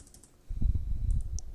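Keys clicking on a computer keyboard while typing in Notepad: a quick run of soft, close taps after a brief quiet start, continuing steadily to the end.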